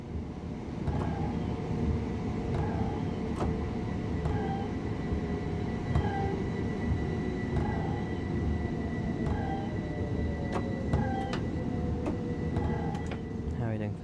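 A Class 387 Electrostar electric train in the Train Sim World East Coastway route runs with a steady rumbling drone and a low hum, while repeated short electronic chirps and faint clicks recur at regular intervals.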